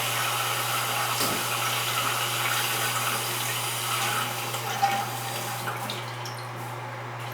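A running toilet lets water flow in a continuous, steady hiss and trickle, close and even, with a low constant hum underneath and a brief knock partway through.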